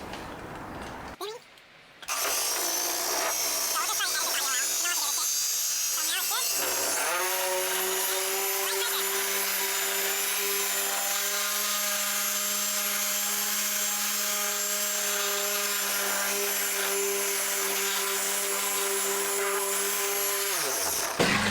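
A rotary polisher runs at its highest speed with light pressure on a hazy carbon fiber part, a loud, steady high-pitched whine that spins up after a brief start and holds for about twenty seconds.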